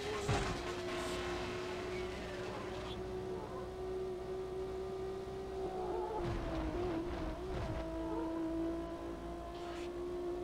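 A steady, high-pitched McLaren F1 engine whine in the video game Need for Speed IV drones continuously with shifting tones and occasional dips, with faint talk beneath.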